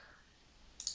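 A computer mouse gives two quick, faint clicks close together at the very end of a short, quiet stretch.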